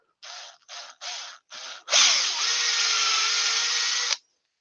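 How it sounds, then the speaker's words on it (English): A power drill bores straight down into wood while woodturning farm animal toys, four short close bursts of whirring followed by one long sustained drilling run that stops abruptly. "I'll just drill straight down into it."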